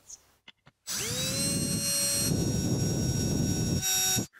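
A few short taps, then a drill whines loudly at a steady high pitch as a step drill bit cuts through metal, stopping abruptly before a brief restart.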